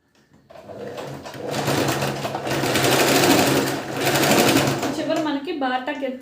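A sewing machine runs in a steady whirring, rapid-stitch rhythm while stitching a princess cut blouse, starting, holding for several seconds and slowing near the end, with someone talking over it.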